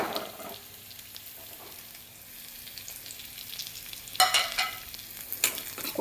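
Onions sautéing in a pan as spices are added, a soft, even sizzle that swells into louder bursts of frying and scraping toward the end.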